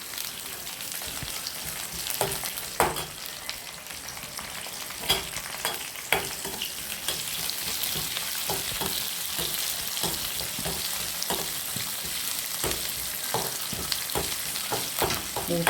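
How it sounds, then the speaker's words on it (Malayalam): Shallots fry in oil for a flounder (manthal) curry tempering, a loud, close, constant sizzle broken by regular scraping knocks of a stirring spoon, no talking. "ഉള്ളി നന്നായി മൂത്ത് വരണം."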